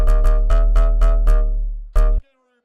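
Drum and bass stab bass synth patch built in Serum: six punchy, bright stabs in a quick steady rhythm, a sustained low tail, then one last loud stab that cuts off abruptly into silence.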